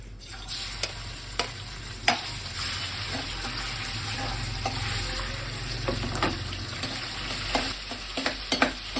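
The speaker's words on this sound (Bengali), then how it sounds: "চিকেনটাও ভেজে নেব।" Chicken pieces fry in oil for fried rice, a steady close sizzle running throughout with sharp clicks and scrapes of a stirring utensil scattered across it.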